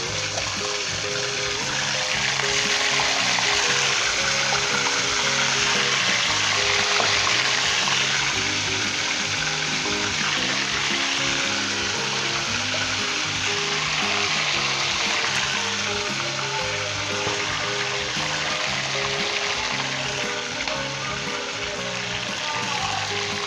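Chicken pieces for Lahori chargha fry in hot oil with a steady, loud, hissing sizzle that holds close and unbroken for over twenty seconds, with no talking.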